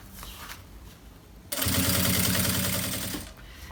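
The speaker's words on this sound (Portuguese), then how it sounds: "vinco e vou passando aqui a costura, pra ela ficar bem bonita" A sewing machine stitches a fold along a bag strap while making a shoe bag, starting after a quiet stretch and running as a loud, steady motor hum with rapid stitching for about two seconds before stopping.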